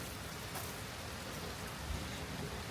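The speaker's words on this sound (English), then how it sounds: "I'm out here in the rain." Steady rain falls in a garden during a hail storm, a dense, even patter of drops on surfaces with no voices, moderately quiet and continuous throughout.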